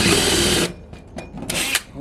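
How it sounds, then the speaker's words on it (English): A power drill spins a dull unibit step bit into a vehicle roof: a loud whine for under a second, then fainter bursts and a few short knocks. "I wish my unibit was sharper."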